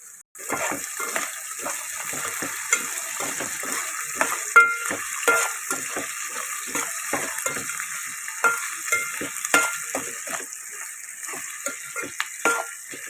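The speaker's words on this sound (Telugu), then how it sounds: "మంచిగా మొత్తం అన్నీ కలిసిపోయేలాగా వేగేలాగా కలిపి పెట్టుకోవాలి." Moong dal rice with potato, carrot and rock salt is stirred and frying in a pan, giving a steady sizzle broken by repeated scraping and tapping strokes of the spoon, close and alone with no talking.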